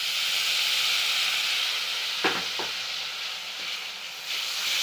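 A ripe banana mixture with jaggery syrup and dry fruits bubbles and hisses steadily in a pan as it is stirred, with a couple of soft scraping knocks partway through.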